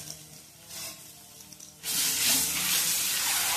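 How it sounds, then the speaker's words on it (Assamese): Eggs sizzle and hiss in hot oil with turmeric and chili powder, quiet at first and then surging into a loud, steady frying roar. "কণীকেইটা ৰঙচুৱাকৈ ভাজি ল'লোঁ মই"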